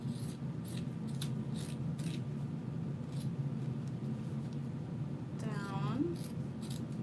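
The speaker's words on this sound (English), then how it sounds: "I'm cutting the lining." Repeated short snips of scissors cutting through zipper-pouch fabric lining, close by, with a steady low background rumble and a brief rising whine near the end.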